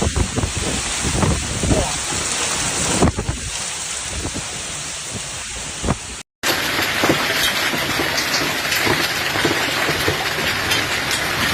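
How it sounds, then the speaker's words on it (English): Heavy rain pours during a thunderstorm with gusts of wind in the Braunschweig-Wolfsburg region of Germany, a continuous hiss with low rumbling underneath, cut by a brief dropout before the downpour resumes just as steadily. "A storm brought liters of rainfall and gusts of wind to the Braunschweig-Wolfsburg region on Thursday afternoon."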